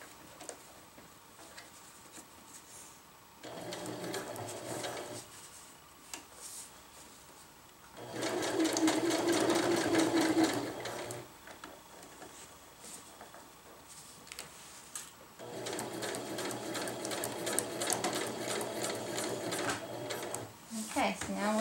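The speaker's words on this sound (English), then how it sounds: "Now we'll do our reinforcement X stitches all the way down the line." A sewing machine runs X-shaped reinforcement stitches through tarp fabric in three separate bursts of rapid, close stitching, with a person talking in the quieter gaps between runs.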